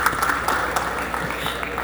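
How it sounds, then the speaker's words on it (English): Audience applause for a conference panel at a session hall: a steady wash of clapping from many hands, moderately loud and continuous throughout, with no speech over it. "Let's have a big round of applause for our panelists"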